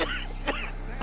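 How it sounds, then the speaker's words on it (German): A character coughs in Red Dead Redemption 2, three short harsh bursts spread over about a second, close and clear over a low steady background hum. "Wenn etwas schlecht ist, dann ist es Blut zu husten."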